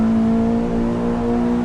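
A car engine in a driving video game on the Nordschleife holds a loud, steady, sustained drone at high revs, running alone without talk for the whole stretch.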